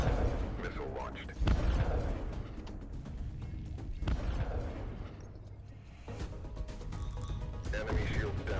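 In the video game Beachway, a missile launches with a deep booming roar and rumbling blast, loud and sustained with sharp surges, while game voices speak over it.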